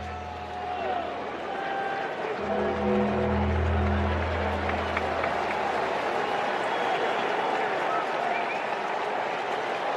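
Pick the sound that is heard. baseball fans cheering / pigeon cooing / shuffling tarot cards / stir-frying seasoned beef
baseball fans cheering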